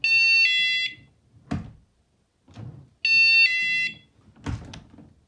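KERUI wireless door sensor alarm triggering as a door opens, loud shrill electronic siren bursts twice, each about a second long, separated by knocks and clunks of door handling.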